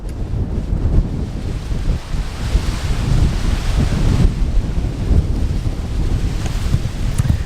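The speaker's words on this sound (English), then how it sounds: "Incredibly windy right now." Strong wind buffets the microphone on a hilltop in Portugal, a loud, continuous roar and rumble with gusting swells throughout and no voices.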